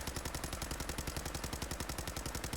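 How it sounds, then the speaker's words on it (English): Rapid, steady automatic gunfire from the Mk 45 artillery target pistol in Fallout 4, even and unbroken, loud and close throughout. "And to go ahead and shoot it."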